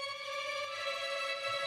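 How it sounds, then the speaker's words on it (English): Violins from the Vienna Symphonic Library play tremolando, a sustained, bright, harmonically rich string chord that fills the brief excerpt evenly at moderate level, with no voices present. "Yeah, so we've got violins playing tremolando,"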